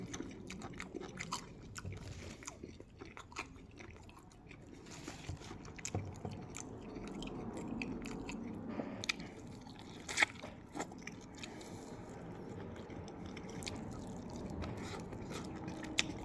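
Close, quiet biting and chewing of a chicken wing coated in hot sauce, with soft crunches, squishy mouth sounds and wet smacks repeating through the whole stretch, with no talking.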